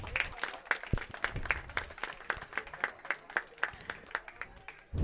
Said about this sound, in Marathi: जोरदार टाळ्या होतात या टीमसाठी.